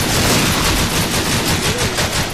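Sustained, loud automatic gunfire from a Stalingrad city map in a video game, rapid bursts running continuously without pause and with no voices over it.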